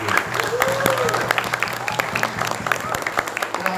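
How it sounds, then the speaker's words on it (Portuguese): A church congregation claps steadily in a dense, continuous patter, with voices mixed in beneath the applause. "aplauda bem forte a palavra de Deus"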